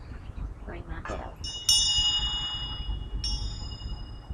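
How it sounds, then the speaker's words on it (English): A small bell or chime is struck twice indoors, first ringing clearly and fading slowly, then struck again more softly, after some brief low vocal sounds. "Ring my bell."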